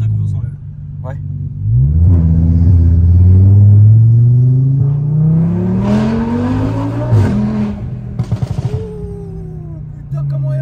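A powerful car's engine revs hard while driving, pitch climbing steadily through the gears with a loud, close rumble and brief crackles, while people talk over it.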